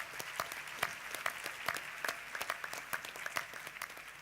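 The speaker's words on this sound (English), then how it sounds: "Let's give a round of applause," At the Doha GOALS 2014 youth forum, a hall audience gives a steady round of applause, with individual claps popping out clearly from the even wash of hands.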